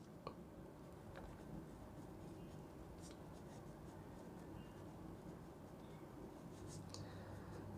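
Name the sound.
writing during a lecture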